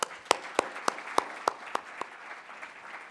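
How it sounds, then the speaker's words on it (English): Sharp, distinct claps ring out in a large room at a design conference, about eight evenly spaced loud claps that grow slightly fainter, over a low ambient hum. "We got to give a big round of applause to FITC staff and volunteers."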